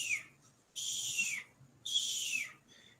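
A recorded elegant tit call played back: two long, bright whistled notes, each sliding down in pitch and separated by short pauses, clear and close in a quiet room.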